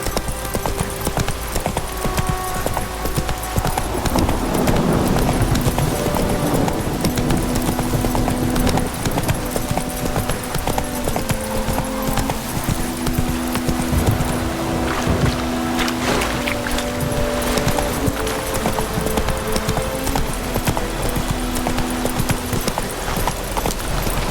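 Hooves of Roach, the horse in The Witcher 3, pound out a steady, fast gallop. The loud rhythmic clip-clop runs continuously under game music, wind and ambient noise.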